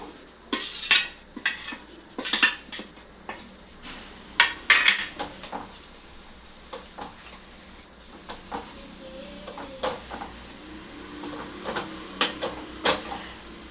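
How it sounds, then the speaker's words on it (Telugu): An egg is stirred in a pan, with frequent metallic clinks and scrapes of a utensil against the pan in irregular bursts over a faint background of frying. "ఈ ఎగ్ను ఇలా వేసేసుకుందాం ఫ్రై చేసి"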